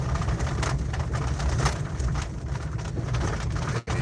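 Pigeons coo softly in a loft before flying, low murmuring calls repeating continuously under a steady hiss of ambient noise, with a brief dip near the end.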